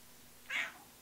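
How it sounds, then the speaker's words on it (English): A pet cat gives a single short, clear meow at close range, with quiet room tone on either side and no talking. "Now he's sitting in my lap, purring his little face off, without a care in the world."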